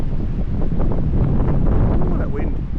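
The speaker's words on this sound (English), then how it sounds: "Ooh, that wind." Strong wind blows at the Three Sisters lookout in Katoomba, a loud, continuous buffeting rumble across the microphone that never lets up.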